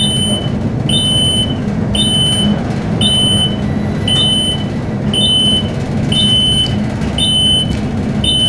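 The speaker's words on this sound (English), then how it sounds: "Hear the generator" An Otis/Murphy elevator motor-generator at the Galt House Hotel hums low and steady, with a loud, regular electronic beep repeating about once a second over the drone.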